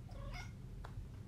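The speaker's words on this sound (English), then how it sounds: "Cup will meow like a normal cat, but Cake chatters" A cat gives a short meow or chattering call, brief and fairly faint over a steady low background rumble, with no talking.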